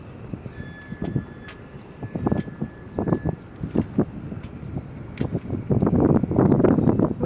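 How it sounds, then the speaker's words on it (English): Wind gusts buffet the microphone aboard a sailboat off Terminal Island, California, rumbling in uneven bursts that swell and grow stronger toward the end, with faint background hum. "We have more wind, right?"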